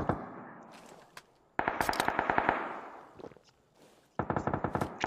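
Automatic gunfire in a shooter video game, rapid bursts of loud cracking shots in two main volleys separated by quieter single pops.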